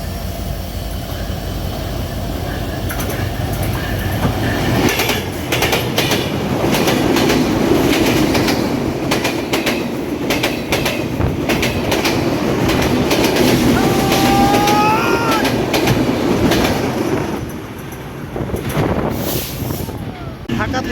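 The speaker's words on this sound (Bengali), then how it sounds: "খুলনা অভিমুখী সুন্দরবন এক্সপ্রেস যশোর জংশনে প্রবেশ করলো" The Khulna-bound Sundarban Express rolls into Jessore Junction, a loud continuous rumble of rail cars with clickety-clack wheel rhythm and a brief wheel squeal, close by, with some background voices.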